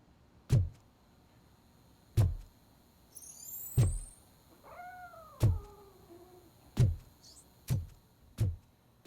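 Grumpy the cat meows twice in RoboCop: Rogue City, curving, drawn-out calls heard clearly between loud, evenly spaced heavy thuds like footsteps, with a faint high chirp in the background.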